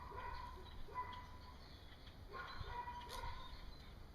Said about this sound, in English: Avoid the pack of wild dogs in the background.